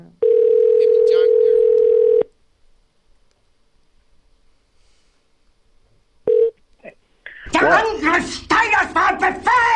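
A telephone dial tone holds steady for about two seconds before a call to a radio show caller, then silence, a brief tone and some dialing blips, followed by voices talking.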